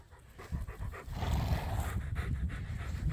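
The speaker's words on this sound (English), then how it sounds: "And Mufasa is a good guard dog" A guard dog on a sheep farm pants heavily and rhythmically, close and fairly loud, with quick breaths continuing throughout and no talking.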